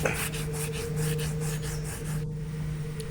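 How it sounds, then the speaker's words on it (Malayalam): Fish is scrubbed with salt against a stone in steady, close back-and-forth rubbing strokes, a gritty rasping texture over a low constant hum, with no talk. "ഇതുപോലൊരു പാർക്കലിലിട്ടിട്ട് ഉപ്പിട്ട് ഉരയ്ക്കണം"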